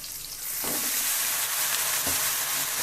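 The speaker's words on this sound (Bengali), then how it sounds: "পেঁয়াজটা ভেজে নিচ্ছি" Onions frying in a pan give a steady, close sizzle throughout, with two soft scraping stirs partway through and no voices.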